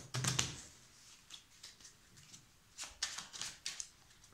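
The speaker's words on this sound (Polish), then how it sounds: "Tasuję. Karty są przekładane." Playing cards shuffled by hand during a card trick, heard as faint, close riffling bursts, one quick flurry at the start and a few softer ruffles later, with quiet pauses between and no talking.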